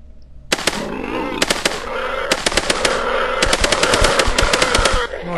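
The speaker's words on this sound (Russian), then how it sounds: "Вот так вот УЗИ лупит." An Uzi submachine gun in the game Stalker Online fires in rapid, loud bursts of sharp cracks, with dense volleys filling the clip and some short pauses between them, and a voice faintly underneath.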